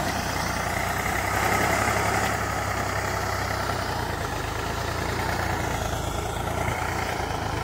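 A tractor engine idles nearby with a steady, low, chugging rumble that stays at an even loudness from start to finish.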